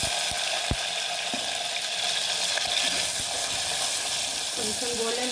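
Onions and chilli frying with garam masala in a hot pan, a steady close sizzle with occasional clinks and stirring knocks throughout.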